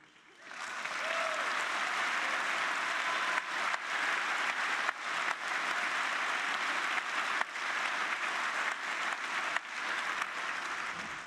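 Sustained applause from a large audience, dense and steady clapping that swells in quickly and carries on for several seconds without voices.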